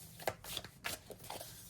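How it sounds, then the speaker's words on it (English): Tarot cards being shuffled by hand produce a few quiet, close papery riffles and slaps in an irregular rhythm, with no talking. "because I'm looking at this card as I'm shuffling"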